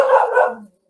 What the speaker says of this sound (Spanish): hay un perrito aquí